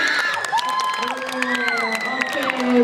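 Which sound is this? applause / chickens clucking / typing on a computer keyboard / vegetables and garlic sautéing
applause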